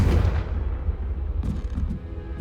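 A Confringo blasting spell detonates in Hogwarts Legacy, a low booming explosion that rumbles and fades, followed by faint crackling debris.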